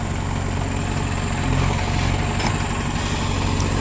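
A tractor engine strains to pull a sugarcane trolley stuck in the field, a steady loud rumbling drone held at one level throughout with no talk.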